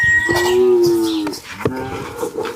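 Holstein Friesian heifer calves lowing on a farm, one long close moo followed by shorter, softer calls and low grunts, loud and clear with no talk.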